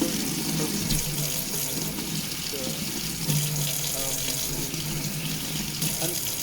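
Tap water running onto the back of a spoon in a sink, a steady continuous splashing hiss throughout, close and fairly loud, with faint talk underneath.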